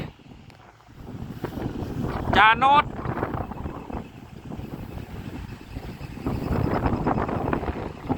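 Strong wind buffeting outdoors at a work site, rumbling gusts rising and falling under brief speech, with a sharp tonal squeal partway through.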